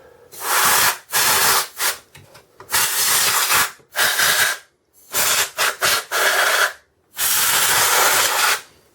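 Loud, close blasts of compressed air spray in a string of short hissing bursts, separated by brief pauses of varying length, blowing dust out of the fans of an HP TouchSmart 300-1000 computer.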